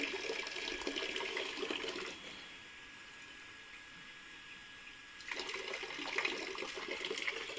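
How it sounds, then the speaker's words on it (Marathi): Water flows and splashes at a hillside spot on Raireshwar, loud at first, then dropping to a faint trickle for a few seconds before the steady rush returns. "पाणी येतं बघा कुठे"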